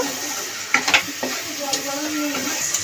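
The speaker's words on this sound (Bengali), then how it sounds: "অল্প একটু জল দিয়ে মশলাটাকে ভালো করে কষিয়ে নেব" Spice paste for chicken kosha being sautéed with a splash of water, a loud bubbling sizzle broken by quick spatula scrapes and knocks against the pan.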